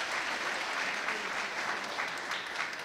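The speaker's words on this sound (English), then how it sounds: "Please give a round of applause once again to Mr. Hassan." An audience at a talk claps steadily throughout, a fairly even wash of many hands heard from within the room.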